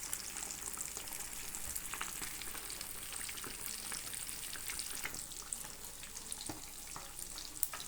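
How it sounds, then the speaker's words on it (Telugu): Marinated fish pieces frying in hot oil give a dense, continuous crackling sizzle, steady and fairly quiet throughout with no voices. "ఒక గంట నానిన తర్వాత వాటిని ఈ విధంగా నూనెలో ఫ్రై చేసుకుంటున్నాము."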